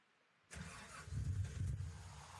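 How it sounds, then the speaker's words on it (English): A truck engine in Gold Rush: The Game cranks and catches after a brief silence, settling into a steady, fairly quiet low rumble. "Okay, I can hear the engine, but it's so quiet."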